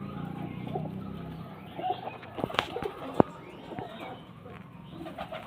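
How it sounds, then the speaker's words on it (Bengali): Pigeons held for sale coo softly nearby, low burbling calls mixed with handling rustles and a couple of sharp taps, no speech over them. "খুব সুন্দর পায়রা"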